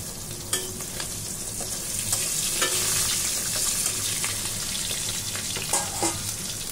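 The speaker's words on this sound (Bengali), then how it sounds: "বন্ধুরা এখন আমি মাছের ডিমগুলো ভাজা নিচ্ছি" Fish roe frying in a pan sizzles steadily and close, a bright crackling hiss punctuated by sharp pops and spatters as it is stirred.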